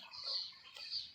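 Backyard chickens clucking up close in two short bursts, with a brief gap between them and no talk.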